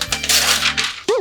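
White paper wrapping is peeled off a brand-new iPad Pro up close, making a short, crisp rustling tear that stops abruptly, followed by a brief voice.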